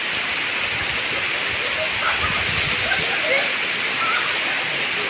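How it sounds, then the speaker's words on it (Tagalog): Heavy typhoon rain pouring down beside a river, a loud, constant hiss of rainfall and rushing water that never lets up, with faint voices underneath. "Lakas ng ulan."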